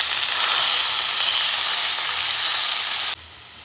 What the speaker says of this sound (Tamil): அதை விட கொஞ்சம் மிளகாத்தூள் சேர்த்து நல்லா வதக்கிக்கலாம்